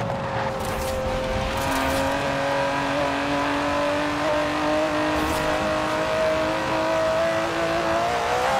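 The 5.2-litre twin-turbo V12 of an Aston Martin DB11 in Forza Horizon 4 drones steadily and loudly, its pitch rising slowly as the car accelerates over about nine seconds. It is heard alone, with no talk.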